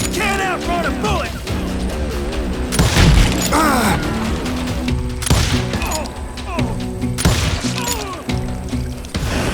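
Gunfire in the Western shooter game Call of Juarez Gunslinger, with repeated loud booming shots and clattering mechanical effects over layered game sounds, and a voice speaking over part of it.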